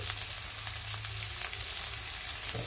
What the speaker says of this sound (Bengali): দিয়ে একটু লাল লাল করে কপিটা ভেজে নিতে হবে